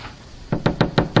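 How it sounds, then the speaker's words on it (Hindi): A heavy iron chain on a door dropped repeatedly in a Hindi audio drama: five evenly spaced, sharp knocking thuds land close and loud in quick succession after a brief quiet lead-in. "उसने एक बार फिर उस भारी जंजीर को उठाया और दोबारा छोड़ दिया।"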